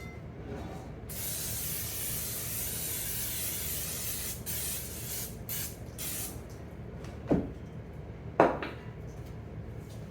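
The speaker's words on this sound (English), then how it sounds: "spray the sides and bottom of the cast iron Dutch oven pan with a non-stick cooking spray" A steady hiss of non-stick cooking spray from an aerosol can into a cast iron Dutch oven runs for several seconds, followed by a couple of light clinks of the pan.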